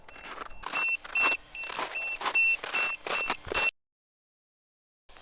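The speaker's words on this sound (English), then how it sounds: "They're beeping, both of them are beeping now." Two battery voltage meters on a brushless-converted Losi 5T RC car beep together in a rapid run of about eight or nine high, shrill pulses, close and clear, then cut off abruptly into silence.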